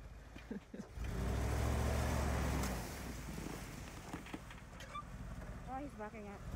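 A Jeep's engine rumbles steadily as it backs up a snowy hill, low and moderately loud with wind buffeting the microphone, while voices talk faintly near the end.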